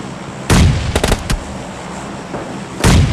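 Grenade blasts in the PUBG battle-royale game: two loud, broad booming explosions about two seconds apart, with a quick cluster of sharp gunfire-like cracks between them.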